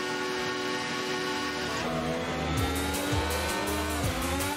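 Formula 1 cars in a racing video game pull away from the grid at Donington Park, a dense roar of many engines revving and rising in pitch together, loud and close, with a few gear-change dips toward the end.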